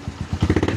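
A Honda CT125 motorcycle runs near and clatters through a gear change, its engine putting out a series of short rhythmic pulses and knocks over less than a second.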